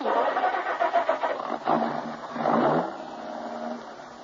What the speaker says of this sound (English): then started the car